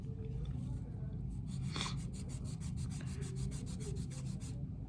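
A nail file rasps across fingernails in a quick run of short, even strokes while the nails are shaped into a square form, faint and close over a low steady hum.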